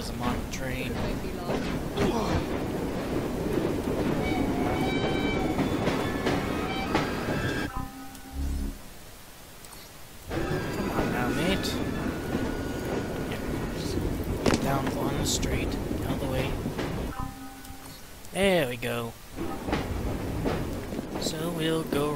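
A train rolls along rails in the video game Assassin's Creed Syndicate, with a continuous rumbling ride, brief quieter gaps and occasional squeals, under a voice talking over most of it.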